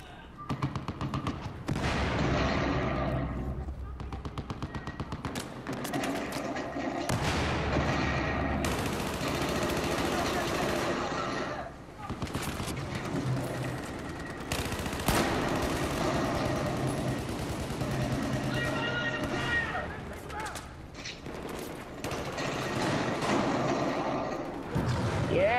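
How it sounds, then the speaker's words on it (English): Relentless automatic gunfire from the Battlefield 4 video game rattles almost continuously, dense rapid bursts with heavy thumping impacts layered on top, loud and close throughout with only brief dips in intensity. "Gunfire."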